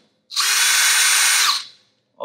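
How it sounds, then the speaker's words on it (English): A power drill bores a hole through a silicone mold post, spinning up to a steady high whine for just over a second and then winding down, close and loud with no talk. "we are going to start drilling some holes"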